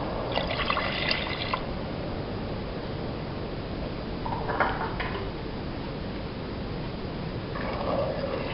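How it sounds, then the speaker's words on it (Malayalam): Water is poured in a few short bursts into sugar for syrup over a steady background hiss, with splashing pauses between pours; no talking. "2 കപ്പ് വെള്ളം ഒഴിച്ച് ഒരു സിറപ്പ് തയ്യാറാക്കുക."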